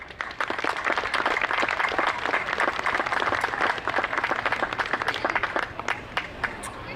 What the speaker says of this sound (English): Can we have a huge round of applause for these folks?